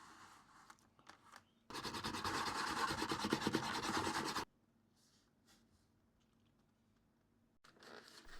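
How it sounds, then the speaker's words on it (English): Abrasive sanding on the cut edge of a leather mushroom-shaped bag panel, a steady close rasping run of about three seconds, with quieter rubbing before and after and no talking. "So cut off the excess, sand it, bevel it, re-dye it and burnish it."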